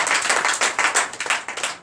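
A church congregation claps in a dense, fast rhythmic burst during a night deliverance and prophecy service, close and loud with no voices audible.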